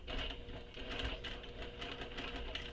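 A home sewing machine stitches fabric handbag panels along a drawn seam allowance, its motor whirring steadily and close for a few seconds with a fast mechanical needle rattle and no talking.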